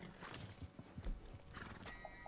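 Horses in a video game, with rhythmic clip-clop hoofbeats and a brief whinny at close range, moderately loud and steady throughout.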